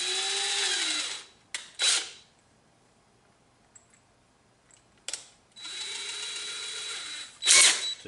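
Cordless drill spinning bronzed parts against a Scotch-Brite pad to strip the finish, in two close, loud whirring bursts separated by quiet gaps and short clicks, ending with a brief harsh scrub.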